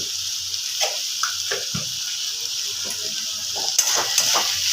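Egg curry masala frying in a pan, a steady sizzle under occasional spoon scrapes and stirring knocks, close by and moderately loud, with no voices.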